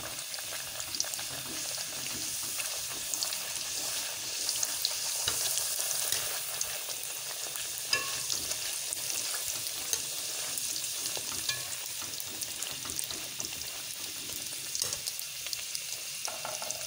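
Gol gappa puris fry in hot oil with a steady, close sizzle that runs the full length, broken by occasional stirring and splashing as the puffing dough is turned over.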